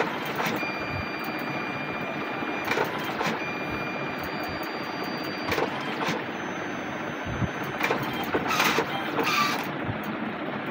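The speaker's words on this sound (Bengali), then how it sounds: "দাদা কালার অ্যাডজাস্ট করার পরে একটা প্রিন্ট ছাড়তেছে" A photo printer runs a print after colour adjustment, giving a steady mechanical whir with clicks and roller thumps throughout, fairly loud and continuous, with no one speaking.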